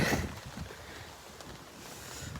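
Strong wind gusting during heavy rain in Thoothukudi under a storm warning, a steady broadband roar buffeting the microphone close up, loudest at the start and continuing without a break.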